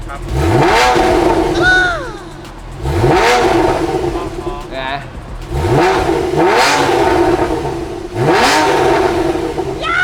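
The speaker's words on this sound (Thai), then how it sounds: "ฟังหน่อยไหมสำหรับเสียงท่อ" A real car with a naturally aspirated 3,800 cc, 400 hp engine and an IPE exhaust revs hard four times in a row, each rev rising and falling in pitch, loud and close.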